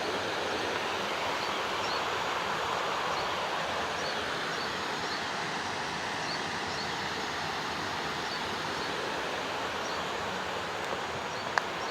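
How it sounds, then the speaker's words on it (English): A natural stream flows steadily in the open, a continuous broadband wash of water with faint insect buzz blended in, even and unbroken throughout. "the sound of the water is very nice"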